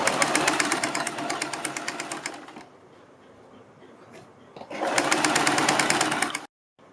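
A sewing machine stitches along the folded top edge of a garment in two loud, rapid bursts of even needle chatter, separated by a quieter pause of fabric handling, ending abruptly.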